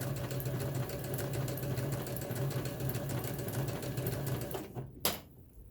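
A Baby Lock Ellure sewing machine stitches at a rapid, even rhythm, its close mechanical whir running steadily for about five seconds before stopping with a sharp click.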